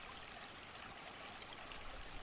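A sunlit stream flows continuously with a soft, even trickling rush, faint and distant, with no voices over it.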